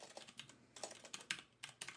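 Rapid clicking keystrokes on a computer keyboard as an email address is entered, a short quiet burst of irregular taps with brief pauses between clusters.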